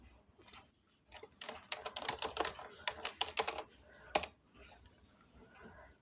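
A name being typed on a computer keyboard: a quick run of close, crisp key clicks in irregular bursts, then a pause and a couple of final taps.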